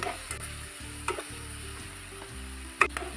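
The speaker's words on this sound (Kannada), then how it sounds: "ಎಲ್ಲ ಕ್ಲೀನಾಗಿ ಫ್ರೈ ಆಗ್ತಾ ಇದೆ." Masala for a fish curry fries in a pan after a light sprinkle of water, a soft steady sizzle with occasional sharp scrapes and taps of a spoon stirring.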